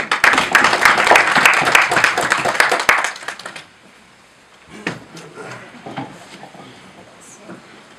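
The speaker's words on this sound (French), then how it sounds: "Applaudissez pour vous-même." An audience at a political rally claps loudly in a dense, sustained burst for about three seconds, then the applause dies away into scattered claps and background murmur.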